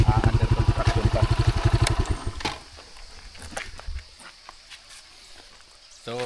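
Motorcycle engine idling close by with a rapid, loud pulsing putter for about two seconds, then cutting out and leaving faint clatter and footsteps in an outdoor setting near a waterfall under construction.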